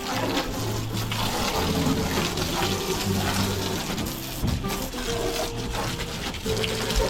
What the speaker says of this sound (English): I'm going to just give it a quick rinse down and then refill it.